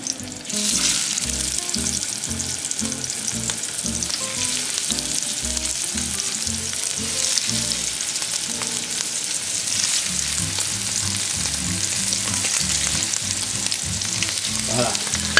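Scallops sizzle and crackle in hot oil in a pan while risotto and scallops are cooked, a loud, steady frying hiss with rhythmic low thumps running throughout.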